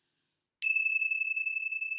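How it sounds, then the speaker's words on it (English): A single bell is struck once after a brief silence, giving a bright, clear ding that rings on and slowly sustains, close and alone. "with the ringing of the bells"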